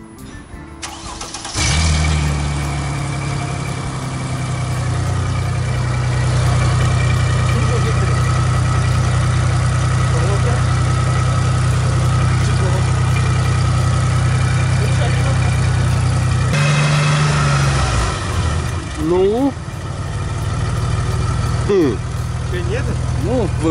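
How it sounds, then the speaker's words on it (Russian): Mercedes ML 320 W163 engine with a split exhaust cranks and starts, then settles into a steady, loud idle close by; it shuts off near the end, and people talk over the running engine. "Запустили двигатель"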